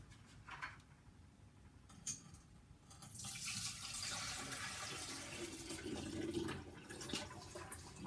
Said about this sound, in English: we're going to pour off everything that's left into our beaker here.